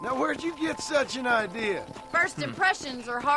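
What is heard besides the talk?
No everyday noise stands out behind the speech.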